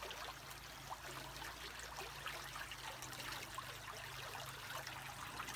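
A creek flows and trickles while hunting for arrowheads along its bed, a soft, continuous babble of water heard alone with a faint low hum beneath, fairly quiet and steady.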